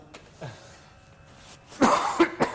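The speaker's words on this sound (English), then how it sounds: "Excuse me, I'm having cough today." A few sharp coughs near the end after quiet room noise, close to the listener, with a small throat sound earlier.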